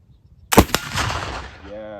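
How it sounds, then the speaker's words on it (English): A black powder gunshot cracks sharply once up close, followed by a quick second report and a long decaying rumble of echo, ending in a faint voice. "So here's shot number 2."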